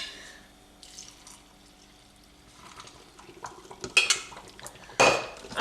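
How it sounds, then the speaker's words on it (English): Milk poured into a NutriBullet blender cup in a kitchen, heard as soft liquid splashing followed by a couple of sharp plastic and utensil clinks, close and fairly quiet with no talk. "So I'm just going to pour the milk in now as well."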